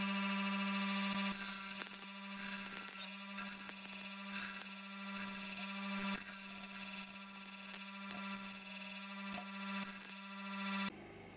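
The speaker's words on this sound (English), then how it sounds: "I have a benchtop grinder, so this is what we'll be using." A benchtop grinder hums with a steady motor whine while it smooths the sharp edges of a metal fork, with intermittent scraping and grinding bursts over the constant tone.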